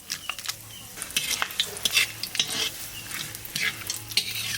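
Cumin, bay leaf, dried red chili and whole garam masala sizzle in hot oil in a pan. A utensil stirs them with repeated scrapes and clinks over the frying hiss, close and moderately loud.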